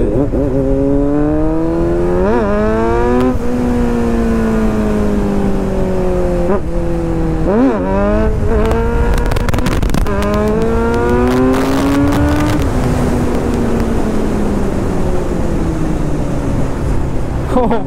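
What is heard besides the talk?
superbike engine revving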